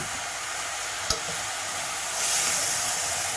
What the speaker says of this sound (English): now I am going to add my 3 tomatoes that I had made puree